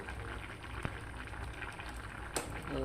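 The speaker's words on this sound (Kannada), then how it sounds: "ಇವಾಗ ಮರಗೆಣಸು ಬೆಂದಿದ ಅಂತ ನೋಡೋಣ ಬೆಂದ ಹಾಗೆ ಕಾಣ್ತದೆ" Cassava bubbles in a pot of boiling water with a steady, soft, close simmer, and a couple of faint clinks stand out against it.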